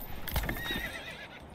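A horse neighs loudly in the Manor Lords medieval village-building video game, one drawn-out whinny close by with a few hoof clops, alone without talk.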